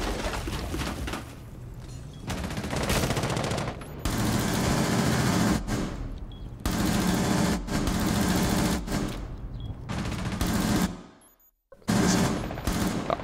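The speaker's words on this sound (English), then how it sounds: "Every shot bugs out audio somewhere, somehow." Video game gunfire with glitching audio comes in loud bursts of rapid shots that cut out abruptly into brief gaps and dropouts, then restart, with stuttering near-silent breaks between volleys.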